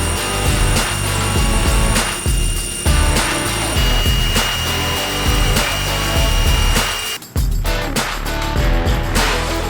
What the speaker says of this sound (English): There's going to be 3 holes that get drilled on this Jeep.